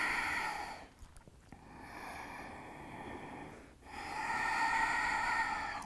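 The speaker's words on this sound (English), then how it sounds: "long inhales and exhales." Long, slow yoga breaths, a drawn-out hissing inhale and exhale repeated in smooth waves, close and steady, with a brief pause between.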